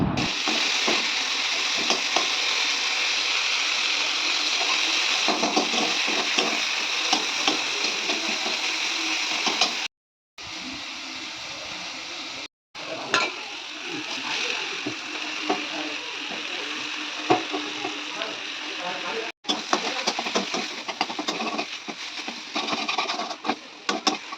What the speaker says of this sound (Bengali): একটু নেড়ে চেড়ে আলুটা একদম বানিয়ে নিলাম